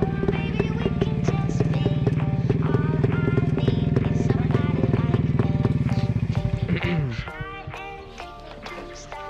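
A WSK 125 two-stroke motorcycle engine runs with a rapid, buzzing beat, then abruptly loses power, its pulses slowing and sputtering as the revs drop away near the end.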